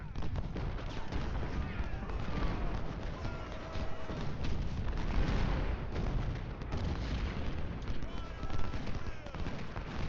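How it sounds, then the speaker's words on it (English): Civil War cannon artillery in Ultimate General Civil War, Brandy Station battle, booms and crackles amid gunfire and horse hooves, a dense continuous battle din at moderate loudness with a voice talking over it. "These cannons aren't really doing that much damage, but hey, it's fine."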